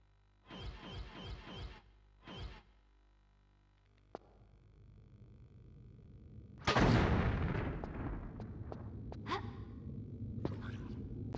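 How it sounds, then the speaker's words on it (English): An explosion in the Tomb Raider The Last Revelation catacombs blasts apart loose bones, a sudden loud boom with a rumbling, crackling tail, preceded by several quick sharp gasps and followed by scattered clatter. "Make sure the explosion does not get the skeletons"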